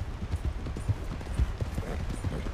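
A horse's hooves clip-clopping in the open-world western game Red Dead Redemption 2, a quiet steady trotting rhythm with faint background ambience.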